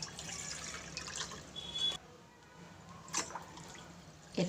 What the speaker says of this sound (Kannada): 2 ಲೋಟ ನೀರು ಹಾಕಿದ್ದೀನಿ.